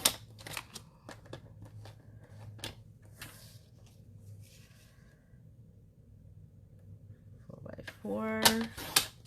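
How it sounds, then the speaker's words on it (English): Scissors cutting through two stacked sheets of striped paper for a zig zag card, a run of crisp snipping crunches early on, then quiet rustling, ending with a louder cutting burst, all under light talk. "I'm just going to line them up and make it faster by cutting both of them at the same time"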